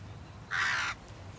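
A single jackdaw call, a short harsh caw lasting about half a second, rings out clearly over quiet outdoor background hum on open stubble.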